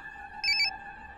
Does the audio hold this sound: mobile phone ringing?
yes